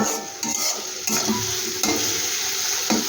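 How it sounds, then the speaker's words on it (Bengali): Masala spices being sautéed in oil for an egg bhujia curry, a loud close sizzle with regular scraping stir strokes every half second or so, no voices. "এবার ভালো করে আমি মশলাটা সুন্দর করে কষিয়ে নেব।"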